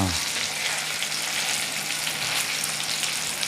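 Waval fish fries in coconut oil on a hot tawa with a loud, even crackling sizzle that holds steady from start to finish, close up and with no voices.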